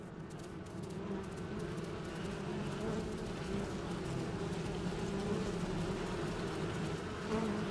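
A continuous, droning buzz of bees in a dinosaur video game, loud and close, holding steady with no talking.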